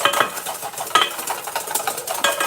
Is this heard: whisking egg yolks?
yes